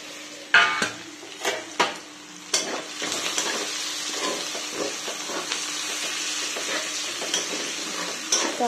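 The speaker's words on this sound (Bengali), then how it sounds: "হালকা ভেজে তুলে নেবো" Chilies lightly frying in a pan: a few loud metallic knocks and scrapes of a utensil at first, then a steady, close sizzle continues under occasional light stirring clinks.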